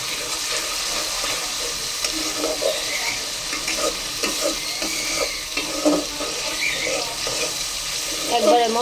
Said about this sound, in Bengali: মশলা কষানো চলছে টমেটোর সাথে।